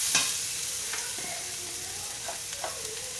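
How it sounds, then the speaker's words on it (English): Grated totapuri mango sautéed with groundnut paste in a pan for mango rice, heard as a steady close sizzle with a few scraping stirs of a utensil and no talking. "See, I've added the groundnut paste. Just saute for about 2 minutes, not more than that. Now add the grated mango."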